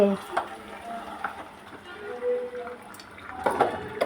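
Fish curry gravy being gently stirred in a pot, with soft scraping and light bubbling clinks in short bursts under a voice talking.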